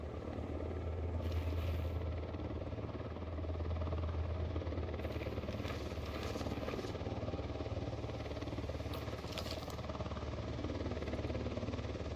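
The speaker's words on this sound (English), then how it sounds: "Chopper's approaching." In the video game Tom Clancy's Ghost Recon Wildlands, a helicopter approaches, its steady rotor drone and engine hum filling the scene continuously, loud and close, with no talking.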